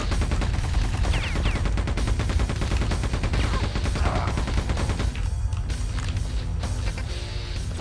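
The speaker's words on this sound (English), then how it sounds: "The random spread shots that gunners do with their grenades." Quake II gunner enemies fire spread grenade shots on a Nightmare-difficulty map, a dense barrage of rapid thuds and explosive bursts, loud and continuous, layered with game sound effects.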